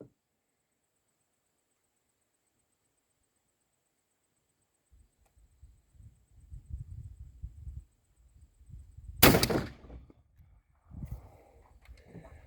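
Shotgun firing a 3-inch fold-crimped shell reloaded with 16 pellets of .31-caliber single aught buckshot: one loud, sharp blast midway, set among low rumbling handling noise outdoors.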